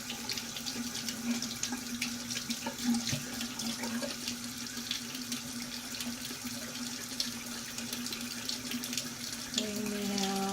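Running water from a tap rinsing soap out of makeup brushes and beauty blenders at a sink, a steady close splashing stream continuing throughout with no talk.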